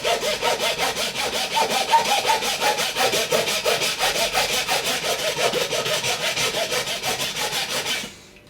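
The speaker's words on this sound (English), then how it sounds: "just gently sawing until you get all the way down through it" A handsaw rasps back and forth in quick, regular strokes, cutting through a Gibson guitar nut, close and steady, then stops abruptly at the end.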